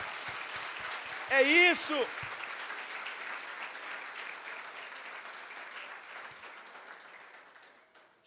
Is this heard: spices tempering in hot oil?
no